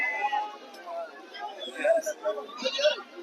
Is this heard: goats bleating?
yes